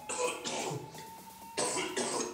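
Harsh coughing from a person in a drama scene, coming in two close, fairly loud bursts separated by a brief lull.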